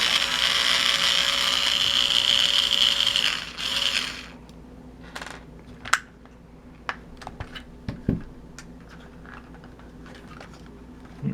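Screws are worked out of a Nikko Brat toy car. A loud mechanical whir fills the first four seconds, then comes a series of scattered small clicks and ticks up close.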